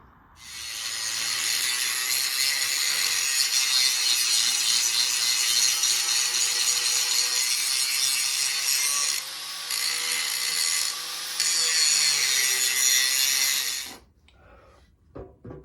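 An angle grinder working metal on a log splitter during welding repairs, a loud high continuous whine for about thirteen seconds with two brief dips, then cutting off.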